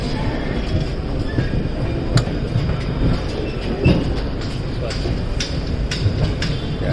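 A train runs along railway tracks on the way to Kerala, with a steady rolling rumble and intermittent clickety-clack of wheels over rail joints, close and continuous, with occasional faint wheel squeal.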